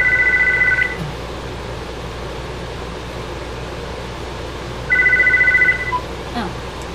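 Mobile phone ringing with an incoming call: two short electronic ring bursts separated by a long pause, moderately loud over a steady fan-like hum.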